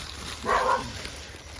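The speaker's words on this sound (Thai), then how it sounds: "ยังเห่าอีก" A household dog gives one short, muffled bark somewhat off in the distance outdoors in a vegetable garden, with quiet surroundings before and after.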